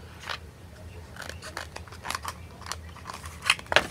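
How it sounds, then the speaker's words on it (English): Scissors cut through a sticker sheet in a run of crisp, close snips at an uneven pace, with the sharpest cuts near the end. "I get out my scissors and I start cutting"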